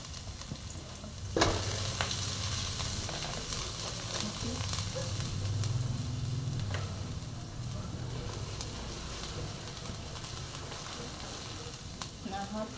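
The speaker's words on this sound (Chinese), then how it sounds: "然后加红葱先炒一下" Ginger and shallots stir-fry in a hot wok, making a continuous dense sizzle and crackle with occasional scraping and clattering of the spatula, steady and close throughout with no talking.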